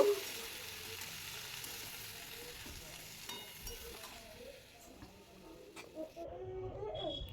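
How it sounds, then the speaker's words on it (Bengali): Radish greens and shrimp fry in a pan while being stirred, a soft continuous sizzle with occasional scraping and clinks, fairly close and moderate in level. "মূলো শাক দেওয়ার পর বেশ কিছু সময় আমি এই সবজিগুলো নাড়াচাড়া করে নেব"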